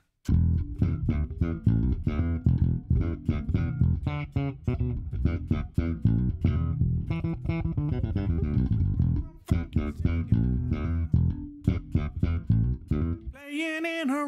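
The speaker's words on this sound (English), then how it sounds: "I'll just play that funky music." Funky music built on One Kit Wonder drum samples from the GGD Dry and Funky kit, with a dense, punchy groove of tight drum hits and tonal parts running steadily, briefly thinning before resuming.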